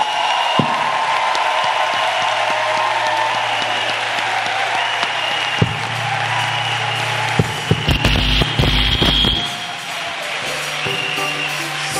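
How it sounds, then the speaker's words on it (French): Church congregation applauding and acclaiming Jesus Christ, a dense wash of clapping running throughout, with a hollow thump and a burst of louder knocks and cheers late before it eases off. "acclamons pour Jésus-Christ"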